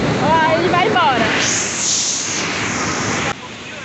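A waterfall at Cachoeira da ASFRAMA on the BR-174 roars as a steady, loud wash of broadband noise. A voice is briefly heard over it near the start.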